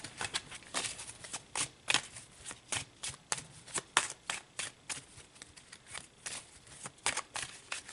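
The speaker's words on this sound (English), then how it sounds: "So let's pull some cards" Tarot cards being shuffled by hand during a reading, a steady run of crisp riffling and slapping bursts repeating every half second or so, close and fairly quiet, with no talking over it.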